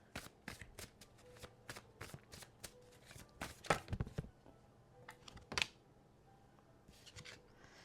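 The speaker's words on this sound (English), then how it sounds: "Now I'm going to pull a card from my shamanic oracle healing deck" A shamanic oracle healing card deck being shuffled by hand, with quick, papery flicks and riffles in uneven bursts, close and fairly soft, with a few sharper snaps partway through.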